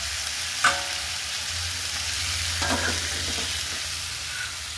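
Cauliflower and spices fry in a pan with a steady sizzle, broken by a few louder clatters as a spoon stirs them, close and alone.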